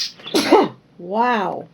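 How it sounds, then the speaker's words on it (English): A single person sneezes nearby while decorating at home, a sharp burst followed by a brief drawn-out voiced tail; a short exclamation is spoken just before. "Excuse me, I'm going to sneeze."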